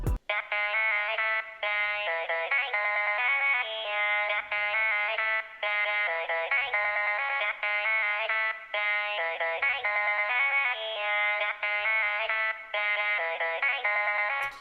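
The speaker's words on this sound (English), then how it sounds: "in the intro there's also the vocal chops, which sound like this" Pitched vocal chops from the intro of a song repeat in short rhythmic bursts, bright and synthetic-sounding, steady and fairly quiet with no speech over them.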